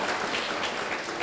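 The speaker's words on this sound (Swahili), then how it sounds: "Nipigieni tena makofi basi." An audience applauds at an international astro-tourism conference in Mbeya, Tanzania: dense, continuous clapping from many hands filling the room at a steady level.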